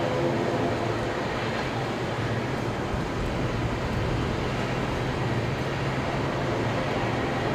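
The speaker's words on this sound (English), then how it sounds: "So there might have been a bit of train noise mixed in there." Airport air train passing at Brisbane Airport at night, a steady loud rumbling roar that holds evenly throughout with no talk.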